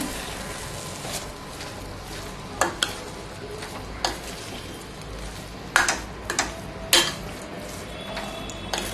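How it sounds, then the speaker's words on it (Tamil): Cooked rice for mint rice being stirred in an oiled pan: soft sizzle under repeated spoon scrapes and metallic clinks against the pan, irregular and close, no speech. "நல்லா சாதத்தை கிளறி விடுங்க."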